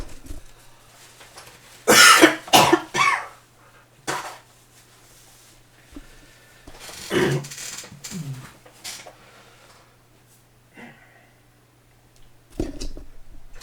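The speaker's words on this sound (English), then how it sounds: "I need to clear my throat." A person clears their throat mid-lecture on rational trigonometry: a few close, harsh bursts around two to three seconds in, another rough one near seven seconds, then quiet room tone between them.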